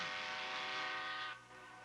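A train's horn blares, steady and loud on railroad tracks, holding a sustained harmonic tone before fading as the train passes.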